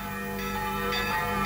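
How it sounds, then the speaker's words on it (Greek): Church bells ring for funeral tolling in a 1983 Greek television drama, a faint, sustained bell tone heard from a distance over a dense background. "Άρχισαν οι καμπάνες να χτυπάνε κιόλας."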